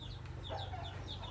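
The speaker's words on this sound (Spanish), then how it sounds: "Igual gallina, no, nomás así, gallina McLean, Leaper" Chickens, including McLean hens, cluck softly over a steady low hum, a few short calls rising and falling in the background.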